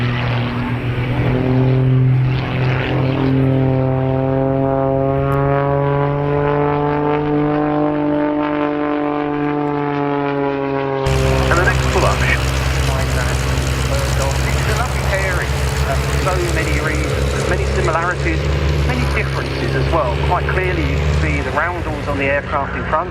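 A propeller aircraft flies aerobatics, including a barrel roll, at the RAF Cosford Airshow, a steady droning engine with pitch shifting as it manoeuvres, heard under a commentator's continuous talk over the PA.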